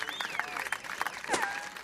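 An audience clapping at a comedy stage show, a patter of applause mixed with crowd noise and overlapping voices talking.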